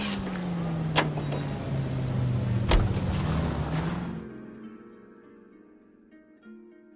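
A car in the L.A. Noire video game drives along with a low engine hum and a couple of sharp thumps, then the engine sound fades out, leaving quiet background tones.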